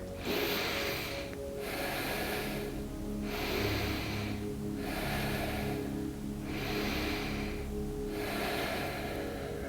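A person breathes during a yoga back bend stretch of the leg, with slow, even breaths heard close and loud in a regular rhythm, roughly one every second and a half.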